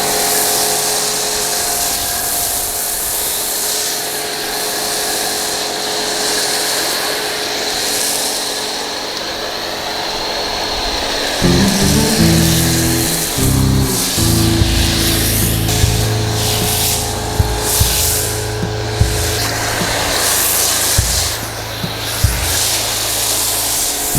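Foam lance spraying snow foam onto a car, a steady loud hiss that runs throughout, with a pump or pressure washer motor droning underneath from about midway and occasional clicks and knocks.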